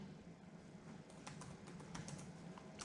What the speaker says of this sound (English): you just type in Grandiece